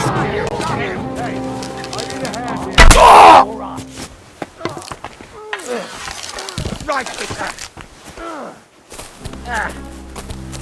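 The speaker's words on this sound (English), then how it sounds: "Watch out! He's gonna shoot!" A single loud, sharp gunshot-like blast in the video game Kingdom Come: Deliverance 2 rings out briefly amid a medieval skirmish. Character voices shout and talk throughout the rest of the scene.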